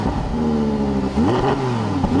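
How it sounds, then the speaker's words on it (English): Sport exhaust of a 2022 Audi R8 V10 revving up and settling, a loud, close, steady engine note with a rising pitch sweep partway through, heard alone without talk. "Press that and it turns on the sport exhaust"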